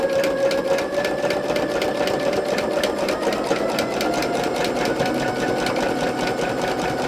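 A sewing machine doing free machine stitching runs in a steady, close, continuous whir with a fast needle rhythm, alone with no talk.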